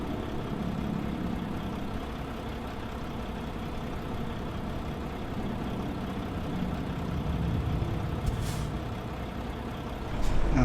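A truck rumbling along in American Truck Simulator, with a steady low engine drone and road noise throughout and a sharper hiss or air-brake burst near the end.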